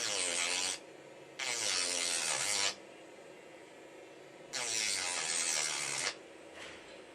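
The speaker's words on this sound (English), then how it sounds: "Our mission will be to make a careful and well calculated cut in the middle of" A mini Dremel rotary tool cuts into a stripped phone screw in two close, harsh grinding passes of about two seconds each, separated by quiet pauses.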